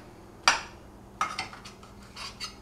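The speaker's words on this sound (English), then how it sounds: "I'm going to go ahead and cut it right in the pan." A utensil cuts a frittata right in its pan, giving a sharp metallic scrape and clink followed by several lighter taps and scrapes. The sounds are close and come in short, irregular bursts.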